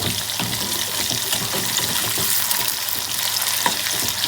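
Prawns frying in a pan make a dense, steady sizzle and crackle, close and loud, with light scraping of a spoon as they are turned, and no talk.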